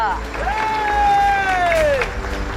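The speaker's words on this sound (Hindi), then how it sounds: "बजाओ तालियां" A studio audience applauds in a Hindi children's fantasy TV series, a steady wash of clapping and crowd noise lasting a few seconds, with a bright sweeping tonal sound effect over it.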